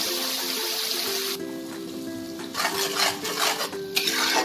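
Ground masala paste goes into a pan for egg korma, first a soft sizzle, then metal utensil scraping and clinking as it is stirred, growing busier and louder toward the end with no talking.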